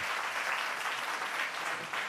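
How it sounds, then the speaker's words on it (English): A town hall audience at an education forum applauds the Mayor and the Chancellor, a steady wash of many hands clapping at a moderate distance, continuous and even throughout, with no voices heard over it. "Let's give him a round of applause again, and the Chancellor."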